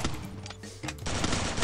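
Rapid automatic gunfire in a shooting video game, two tight bursts of close, loud shots separated by a short gap, with no talking.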